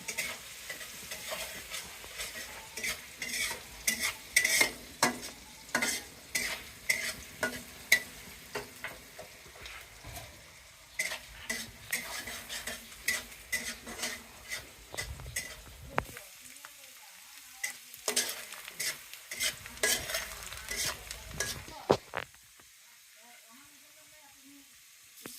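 Bay leaves and onion frying in oil in a wok for a meat dish, with repeated scraping stirs and sizzling in bursts and a voice talking at times, fading to near quiet at the end.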